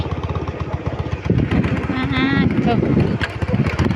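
A motorcycle rides along a rural route, its engine giving a steady close putter throughout, with a voice speaking over the motor.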